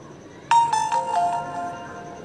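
An Android phone powering off plays a short electronic melody of a few descending chime-like tones, clear and close, that fades over about a second in a quiet room.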